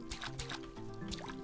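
Crops get watered in the video game Staxel, producing a quick series of soft splashing, dripping pours over a faint musical background, fairly quiet, with no talking.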